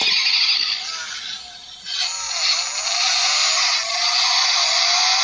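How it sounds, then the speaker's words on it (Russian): A toy Mercedes-Benz G65 plays an electronic engine sound that revs up with a rising whine, then a high squealing screech like tires braking, loud and close with no talk. "звук разгона работающего двигателя, а торможение с визгом резины"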